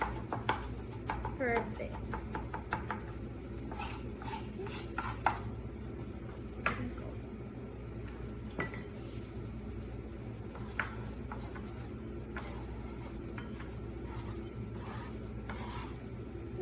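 Walnuts chopped with a knife on a cutting board in a home kitchen, quick rasping, scraping strokes and light taps repeating close by, under a brief spoken word.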